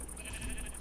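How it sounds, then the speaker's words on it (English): A sheep bleats in the Minecraft video game, one short, quiet bleat with a steady tonal game hum behind it. "I just saw a sheep grow some hair."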